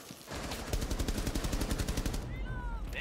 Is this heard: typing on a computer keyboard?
no